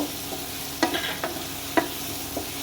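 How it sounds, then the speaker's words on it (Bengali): Thalkuri greens sautéed with spices in a pan: a few sparse, soft scrapes and stirring knocks over a low, steady hiss, with no voices. "এবার আমি কষাতে থাকবো।"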